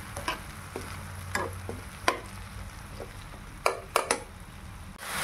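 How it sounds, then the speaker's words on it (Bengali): A spice paste with turmeric is sautéed in oil for a Bengali fish-head muri ghonto, giving a low, steady sizzle under scattered scraping and stirring clinks of a spoon against the pan. "অল্প হলুদ দিয়ে মশলাটা ভালো করে কষে নেব যতক্ষণ না তেল ছাড়ে"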